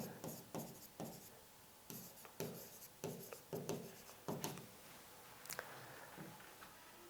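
Writing on a board during a Hindi-language UPSC lecture: a close run of short, scratchy strokes that come in irregular bursts and brief pauses, with no talking.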